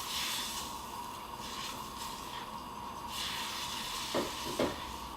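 Soft sizzling and gentle stirring as vegetable stock is worked into chicken and rice in a pan, a steady low hiss with a couple of brief scraping knocks near the end.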